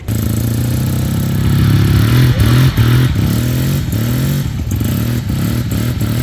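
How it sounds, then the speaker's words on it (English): A Suzuki RE5 rotary motorcycle engine runs steadily close by with a deep, throbbing rumble. The pitch rises and falls slightly as it revs, with some mechanical clatter. "RE5 Rotary engine."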